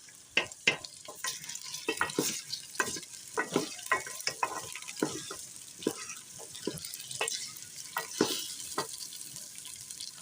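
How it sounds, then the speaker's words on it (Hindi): Taro root (arvi) with ginger and garlic frying over a full flame, with a continuous crackling sizzle and frequent sharp clinks and scrapes of a spoon stirring against the pan, close up and without speech. "अदरक लहसुन भी साथ में ही भून लेंगे।"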